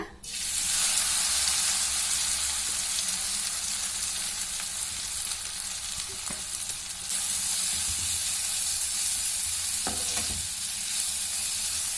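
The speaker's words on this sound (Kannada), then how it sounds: "ಎಣ್ಣೆ ಬಿಸಿಯಾಗಿದೆ ಈಗ ಮೀನು ಸೇರಿಸ್ಕೊಳ್ಳೋಣ" Dry fish frying in hot oil in a pan, a steady loud sizzle running through the whole stretch with occasional stirring scrapes and no talking.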